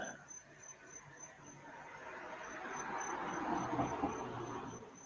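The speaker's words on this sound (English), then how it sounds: "the cricket started up." Cricket chirping steadily outdoors in even, rapid pulses, faint and ongoing beneath a low background rumble.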